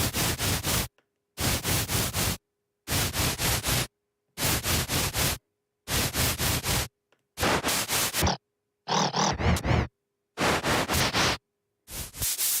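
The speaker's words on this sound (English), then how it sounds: "These are your different noises. Violet, your blue noise, brown noise, pink noise, grey." A series of about eight separate bursts of broadband synthesized noise from the GlitchScaper iOS app, each around a second with short silences between, cycling through violet, blue, brown, pink and grey noise.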